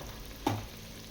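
Curry leaves are dropped into hot oil, making one short, faint burst of sizzling that fades almost at once.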